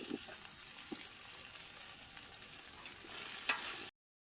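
Potatoes for beef biryani sauté in a pan with a steady, bright sizzle, broken by a few soft stirring scrapes close by before the sound cuts off abruptly.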